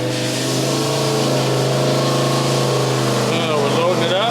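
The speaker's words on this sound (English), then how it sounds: "we're gonna watch it as it goes up in RPM and load" Car engine in a cold-start oil filter test, a steady loud drone climbing in revs under load with a constant low hum, people talking briefly over it.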